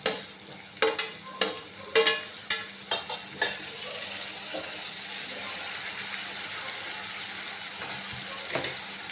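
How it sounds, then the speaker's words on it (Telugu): A spoon stirs tomatoes into curry frying in a pan, with a run of sharp scraping strokes at the start and then a steady sizzle of hot oil, close and loud, and no talking. "టమాటాలు వేసుకొని కలుపుకోవాలి."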